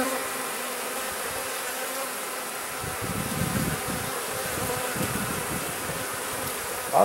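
Honey bees swarm and buzz around an opened beehive during a frame inspection, a dense, continuous drone close by with no one talking.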